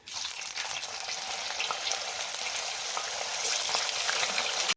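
Spiral potato twisters fry in oil with a continuous close, even hiss of bubbling, steady throughout with no talking.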